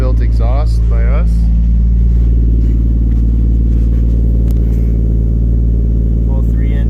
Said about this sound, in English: Full 3-inch piping, stainless steel, TIG welded, the works